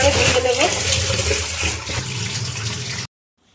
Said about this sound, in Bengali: পানি পাল্টে পাল্টে কয়েকবার আমি ধুয়ে নেব।